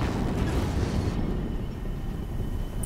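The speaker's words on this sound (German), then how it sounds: "Noch eine Explosion." An explosion in the video game Horizon Zero Dawn, a loud, sustained rumbling blast with broad noisy roar, a dense low boom that fades slightly and keeps churning.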